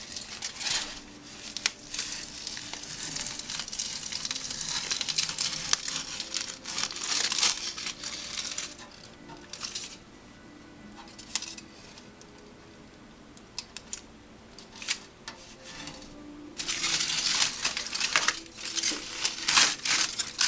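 Tape trim being peeled slowly from a Yamaha FZ600 motorcycle fuel tank, a close, quiet crackling and crinkling that comes in bursts with short pauses between pulls.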